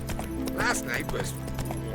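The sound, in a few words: horse Roach galloping in The Witcher 3 video game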